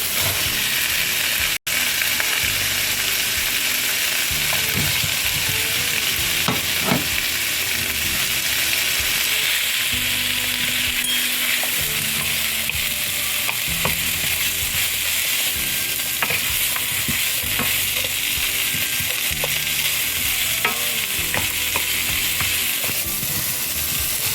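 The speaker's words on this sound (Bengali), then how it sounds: "এর মধ্যে দিয়ে দেবো আমি পেঁয়াজ কুচি" Chopped onions frying in a pan for butter chicken make a steady, close sizzle with scraping stir strokes throughout, and no voices are heard.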